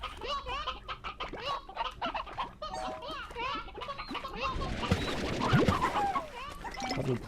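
Chickens in Slime Rancher cluck in a busy stream of short calls mixed with game sounds, while a person talks over part of it, growing denser toward the end.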